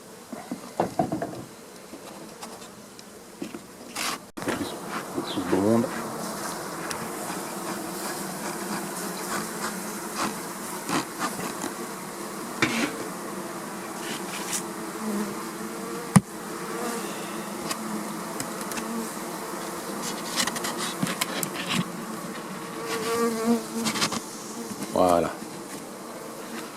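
A honeybee swarm settled in a hive with young bees and a queen cell, giving a constant dense buzzing drone with passing bees flying close by now and then, plus occasional handling knocks in the background.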